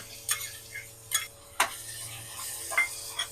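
Browned onion and tomato are stirred in a pan for anda ghotala, with scattered spoon scrapes and clinks against the metal at an irregular pace over a soft, quiet sizzle.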